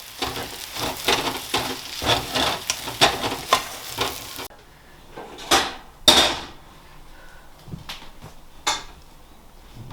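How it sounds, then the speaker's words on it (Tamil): Cheese kottu being mixed with cheese on a hot griddle, with rhythmic scraping and chopping clatters of metal over a sizzle, then sparser sharp strikes after a pause. "தேவையான அளவு சீஸ், நல்லா மிக்ஸ் பண்ணுங்க"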